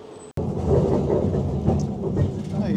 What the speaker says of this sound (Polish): No i jedziemy tramwajem.